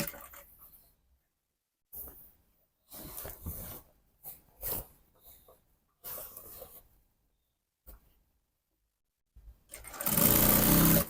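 A sewing machine stitches the center back seam of an off-shoulder dress together with its lining, running in several short bursts with pauses, ending in a louder, sustained run close to the microphone.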